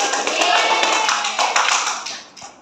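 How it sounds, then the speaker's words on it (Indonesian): A classroom of children clapping their hands together, a dense burst of close claps lasting a couple of seconds before trailing off. "Tepuk tangan semuanya."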